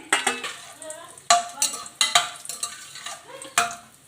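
Whole spices and cashews fry in ghee and oil while a spoon stirs the pan, making a light crackling sizzle punctuated by repeated sharp metallic scrapes and clinks.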